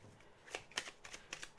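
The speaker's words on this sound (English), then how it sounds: "I'm going to just shuffle a little bit." Quick riffling snaps of playing cards being shuffled, a short burst of crisp flutters and taps, close and fairly quiet.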